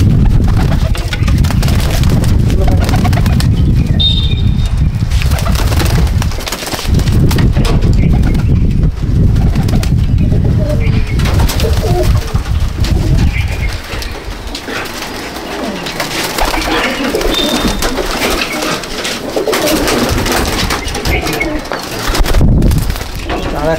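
Loft pigeons in Icchapur, North 24 Parganas, coo close and loud, with a dense throaty rumble through most of the stretch, mixed with scuffling and handling noise; someone talks intermittently over them.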